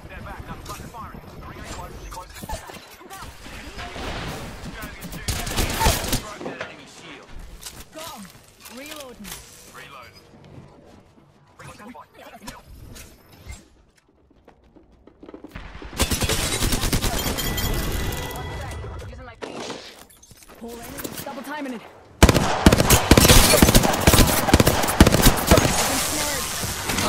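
Gunfire in the video game Apex Legends, heard as loud rapid automatic bursts and booms mixed with game effects, with character voice lines spoken between and over the shooting.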